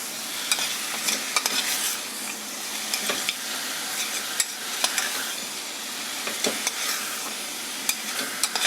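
Mutton pieces, seasoned with turmeric, pepper and salt, sizzle steadily in a pan while a spoon scrapes and stirs in irregular close strokes, with a soft continuous hiss throughout and no talking.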